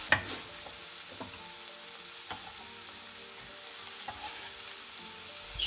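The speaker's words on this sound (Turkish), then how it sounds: "Soğanla biberleri 2 dakika boyunca kavuralım." Thinly sliced onions and green peppers sauté over medium heat in a pan for an eggplant dish, producing a soft, even sizzle with occasional light stirring scrapes, quiet and close, with no one speaking.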